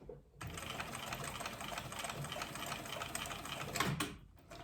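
A 1978 sewing machine stitching a tote bag hums and whirs steadily at a fast, even pace for about four seconds, starting and stopping abruptly, fairly quiet and close.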